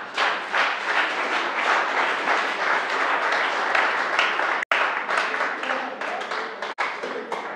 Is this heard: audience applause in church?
yes